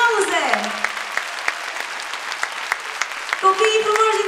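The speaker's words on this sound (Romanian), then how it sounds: "Aplauze!" An audience applauds at a lively evening children's show in Deva, with clapping spread through the room while a voice and music carry on over the top.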